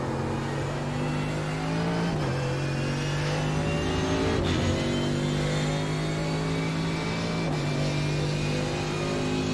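Mercedes GT3 race car engine from the iRacing sim, ACR Zakspeed livery, lapping Suzuka in an IMSA sportscar race: a loud, steady high-revving roar with sharp pitch drops at each upshift, heard alone with no talk.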